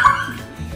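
A dog gives a short, close yip or bark, a single brief burst that fades into quiet background noise.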